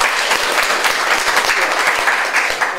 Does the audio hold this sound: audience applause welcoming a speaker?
yes